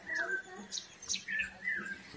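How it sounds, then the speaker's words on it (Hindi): Birds chirp in a quiet village, a few faint high tweets and short calls repeating over a soft, low background hum. "चिड़िया की आवाज़ें सुनाई दे रही है।"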